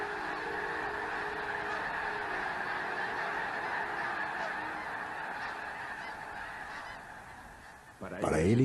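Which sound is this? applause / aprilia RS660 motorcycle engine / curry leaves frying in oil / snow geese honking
snow geese honking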